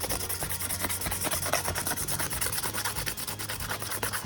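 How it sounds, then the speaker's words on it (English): A paintbrush loaded with leftover blue paint scrapes steadily across junk journal pages, a continuous close dry rubbing with quick repeated strokes and no talking. "I'm going to use the excess on here and on here, and just scrape my brush across"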